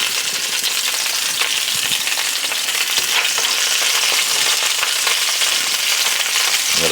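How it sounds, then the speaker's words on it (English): Sausages fry gently in lard over low heat, giving a steady, dense sizzle and fine crackle that runs unbroken throughout, close and even in loudness with no talking. "We're frying them on low."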